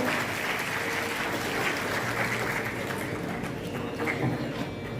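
A large audience at an academy's foundation day cultural event gives loud, sustained applause that stays dense and even from start to finish.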